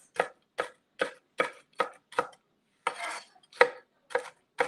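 Knife chopping pecans on a cutting board, about ten distinct close chops in a fairly steady rhythm with one longer scraping stroke midway, alone without talk.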